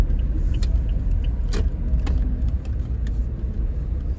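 Steady road traffic with many vehicles on a mountain route near Rosario heading up toward Baguio, a continuous dense engine and tyre rumble heard from inside a car, with a few brief clicks and rattles over it.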